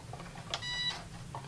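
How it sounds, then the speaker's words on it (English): A Fayee FY004A HEMTT 6x6 1:16 scale RC military truck gives one short electronic beep as it is switched on, a clear tone standing out over a quiet background hum. "Turn it on, it beeps."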